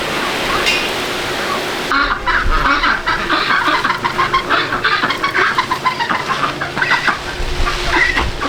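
A flock of backyard chickens at feeding time, dense overlapping clucks and squawks close by, rising into a busy, continuous chorus of pecking birds after the first two seconds.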